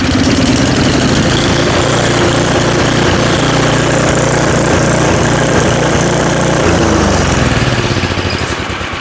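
A cheap second-hand snowblower engine runs loud and close after an idle screw adjustment, a steady rough mechanical chugging that holds throughout before starting to fade at the end.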